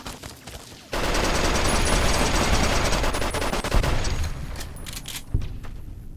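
Heavy gunfire in Fallout: New Vegas, a dense, continuous barrage of rapid shots and booms that erupts suddenly after a quiet opening and keeps going loudly to the end, with a few sharper blasts standing out.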